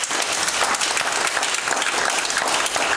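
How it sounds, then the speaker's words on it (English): A church congregation claps their hands for the Lord, a loud, full burst of many hands clapping steadily and continuously, close and crowded. "Give the Lord a hand clap."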